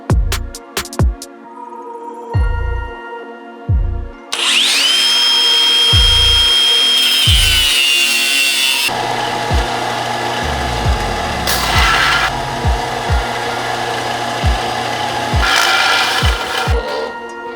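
A power tool trims a suspension bushing for a 1986 Nissan 300ZX, with bursts of knocking at first, then a loud sustained whine and rasping grind that continues steadily with shifting tone, no talking.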